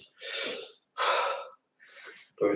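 Heavy, forceful breaths during an exercise session, three loud airy exhalation bursts separated by short pauses, close to the mic, with a brief voiced sound at the end.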